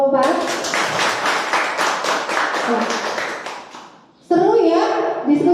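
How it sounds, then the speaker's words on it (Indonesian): Group applause from a classroom audience after a student group's presentation, dense clapping with a few children's voices mixed in, swelling briefly then cutting to a louder burst near the end. "Mari kita berikan tepuk tangan dulu untuk kelompok 4."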